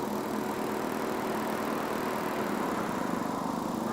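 A small motorbike engine runs in the snow with a steady, buzzing idle and a dense mechanical hum, fairly close and continuous, with no clear changes in pitch.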